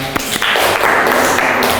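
A class of students clapping their hands together: after a couple of separate taps, a dense, loud burst of many hands applauding at once fills the room.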